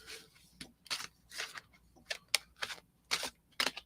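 Tarot cards being shuffled give a series of sharp, crisp riffling bursts, about eight quick rhythmic flicks close to the microphone with faint quiet between them.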